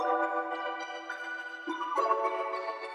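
A glassy, bell-like synth using the Omni Porta preset "Glass" plays a short melody of sustained tones with a step up in pitch midway, clean and alone.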